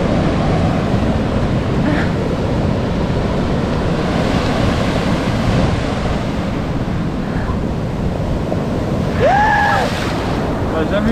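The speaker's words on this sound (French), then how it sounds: "Là, c'est vraiment des grosses vagues." Heavy swell and big rough waves at sea off the Basque Country and Cantabria, a continuous loud roar of surf and water with wind buffeting the microphone throughout, and a brief tonal whine near the end.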